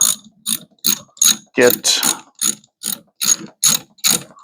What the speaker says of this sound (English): we'll go ahead and unscrew this, which will, it's getting tighter as it comes out